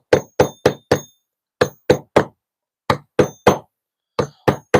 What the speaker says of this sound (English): Hammers, chisels.